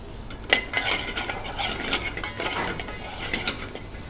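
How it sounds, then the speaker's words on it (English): Masala with chopped tomatoes and a pinch of salt cooking in a pan, heard as quiet, close scraping stir strokes and utensil taps over a faint sizzle, with no voices. "And then you cook your masala"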